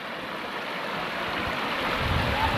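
Water flowing at Mangampeta waterfall, a steady broadband rush that stays even and fairly loud throughout, with no voices.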